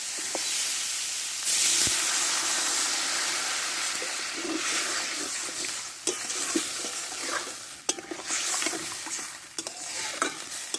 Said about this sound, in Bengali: মশলার সঙ্গে ভালোভাবে আলুটাকে কষে নেব একটু তো এবার জলটা আমি দিয়ে দেবো